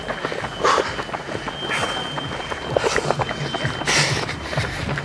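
Quick, rhythmic running footsteps sound on pavement during a half marathon beside the sea, close and steady, with a runner's breathing and faint background noise.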